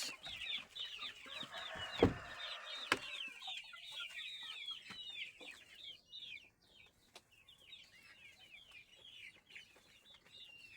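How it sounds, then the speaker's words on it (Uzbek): Black chicks, grown fairly large, give rapid high peeping and clucking calls in a repeated run, with a couple of sharp knocks and a rustle of wings early on. "Qora jo'jalarimiz ancha katta bo'lib qolishdi."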